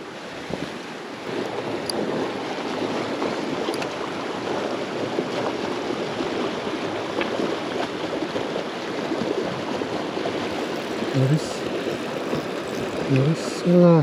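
Mountain river in a trout valley rushes as a steady, loud broadband flow, mixed with wind buffeting the microphone and a brief voice near the end.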